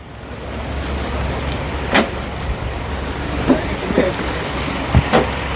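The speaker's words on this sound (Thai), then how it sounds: "นี่เราก็จะลงเรือสปีดโบ๊ทนะครับ" Speedboat at the pier in Pattaya about to cross to Koh Larn, a steady broadband engine and water rumble with a few brief knocks and thuds, people talking faintly in the background.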